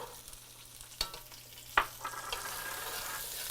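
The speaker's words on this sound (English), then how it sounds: "I'm going to go ahead and drop in about 50 cloves of garlic." About fifty garlic cloves dropped into hot chicken grease at lowered heat, sharp crackling bursts as they land, then a softer continuous sizzle with sporadic pops.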